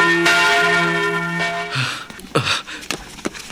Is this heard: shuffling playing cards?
no